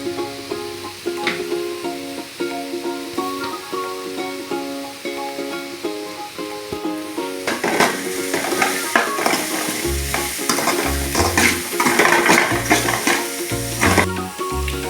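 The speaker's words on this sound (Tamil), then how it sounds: "இப்போ வெங்காயம் நல்லா வதங்கினோடனே நம்ம கேஸை சிம் பண்ணிட்டு இஞ்சி பூண்டு பேஸ்ட் போட்டுப்போம்." Ginger garlic paste frying with softened onions in an oil pan on a gas flame turned to simmer, a constant sizzle that swells midway into loud, repeated scraping and stirring strokes, close up with no voices.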